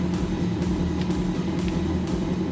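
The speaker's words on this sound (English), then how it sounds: "Here, start the car, move it for me." A C8 Corvette idles and rolls as it is driven slowly, a steady low engine rumble with no revving peaks, heard from nearby without talk.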